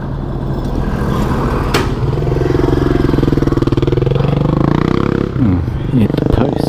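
Close by, a motorcycle engine chugs with a loud, steady pulsing throb during a run start with the bike in gear, its pitch shifting as it moves. Near the end, a voice speaks briefly over it.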